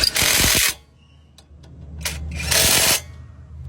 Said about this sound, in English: I'm using the impact hammer.